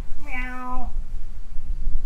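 A cat gives one clear, close meow that rises and then holds steady, followed by quieter background rumble.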